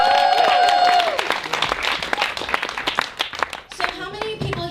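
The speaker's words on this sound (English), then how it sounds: "Round of applause for Lori." Audience clapping at a university storytelling event, starting after a voice and continuing as scattered, uneven hand claps of varying loudness, with talking over parts of it.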